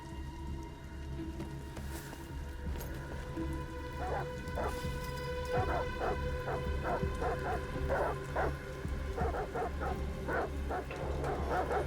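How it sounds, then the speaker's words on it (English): Dogs in the video game Detroit: Become Human bark in repeated sharp bursts, several overlapping yips spread across the scene at moderate distance, layered over steady hissing rainfall and a low background drone, with no talking. "Goddamn dogs. Why What the fuck are they barking at?"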